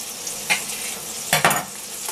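Homemade hamburger patties frying in a pan, a steady close sizzle with a couple of brief scraping stirs or turns of a utensil against the pan.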